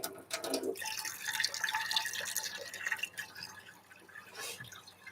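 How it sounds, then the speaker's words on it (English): Berries being rinsed under running water in a sink, a steady splashing trickle with drips throughout, moderately close and without talking. "You want to rinse the berries a little bit."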